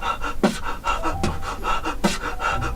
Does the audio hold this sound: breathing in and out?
yes